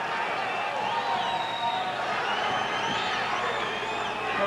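A boxing crowd on its feet cheering and shouting during a bout, a dense, steady roar of many voices with whoops rising over it throughout.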